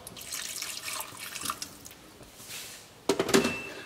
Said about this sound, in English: so I'm just going to add a bit of water.